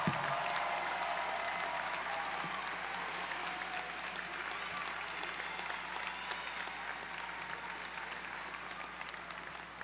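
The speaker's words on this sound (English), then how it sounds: "Please give them a round of applause." Commencement audience at Drexel's College of Business applauds the faculty on stage, a broad wash of clapping that starts strong and slowly tapers over ten seconds, somewhat distant and reverberant, with faint murmurs underneath.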